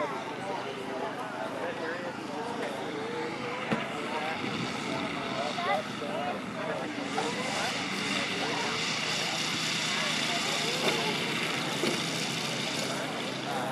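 A radio-controlled model airplane on final approach and landing at an aeromodelers' fly-in, its engine droning steadily at a distance under a crowded outdoor ambience with people talking nearby.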